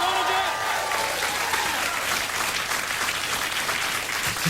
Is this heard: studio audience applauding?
yes